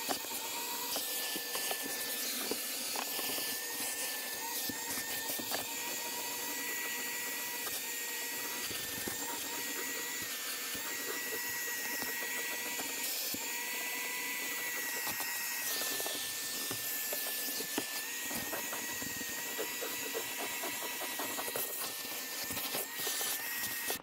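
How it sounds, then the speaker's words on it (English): A vacuum cleaner running continuously inside a Jeep Liberty during interior detailing, a steady whining motor drone with shifting suction noise as the nozzle moves around the back seat area of the cabin. "I'll start here in the back and vacuum everything out."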